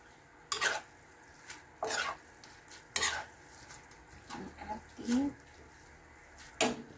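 A utensil stirs and scrapes sautéed sotanghon noodles in a pan, giving a handful of separate clattering strokes over a faint background.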